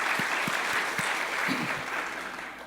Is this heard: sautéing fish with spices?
no